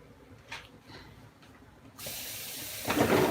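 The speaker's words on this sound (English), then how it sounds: "Wash my hands real quick." Running water from a kitchen faucet as hands are washed in a sink, a steady hiss that starts abruptly and swells louder with splashing near the end, close and alone without talk.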